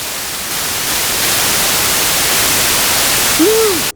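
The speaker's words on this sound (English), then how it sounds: "Since it's polyphonic, the more notes you play, the more noise you get." Hiss from the noise generator of a Roland Juno-6 synth swelling as several keys are held polyphonically, a dense, loud static wash that stays constant, with a brief whistling voice-like yelp near the end before it stops.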